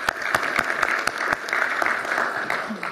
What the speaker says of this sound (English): Let's give Tulsi a huge round of applause.